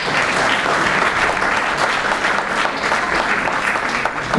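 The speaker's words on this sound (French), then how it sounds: "Je sais que je vais vous demander beaucoup d'applaudissements ce soir" Sustained applause from a banquet audience at a regional awards ceremony for a cold-cuisine medal winner, a thick even roar of clapping carrying on throughout with no speech over it.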